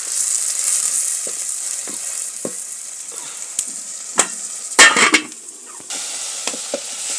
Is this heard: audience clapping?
no